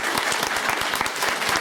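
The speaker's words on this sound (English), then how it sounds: "hope that you'll all join me in a round of applause for them." A conference audience breaks into a round of applause: rapid, dense clapping from many hands, continuous and fairly close throughout the short burst.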